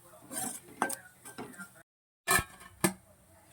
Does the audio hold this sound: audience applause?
no